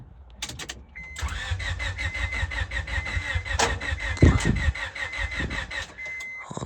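A car engine cranks briefly, then catches and settles into a steady idle with a faint whine, close by.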